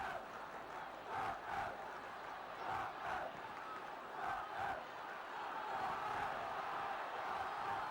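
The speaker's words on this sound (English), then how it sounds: "there are the Tottenham supporters, and now they've got something else to cheer" Tottenham supporters cheer in a football stadium during a match against Manchester United, a broad sustained crowd roar with swelling surges, heard from a distance without speech.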